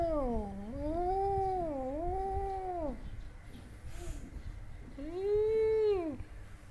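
A cat meows several times in drawn-out, rising and falling calls, close and fairly clear, with a short pause before a final longer meow; a faint voice is heard in the background.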